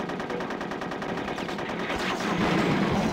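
Rapid gunfire from a scoped revolver and other weapons in the multiplayer video game Conker's Bad Fur Day, dense repeated shots in a steady loud barrage with no talk.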